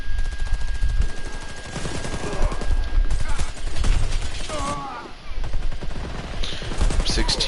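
Rapid M16A2 rifle fire in the shooter game Warface, dense bursts of gunshots running steadily through the clip alongside other battlefield noise, with a voice talking over parts of it.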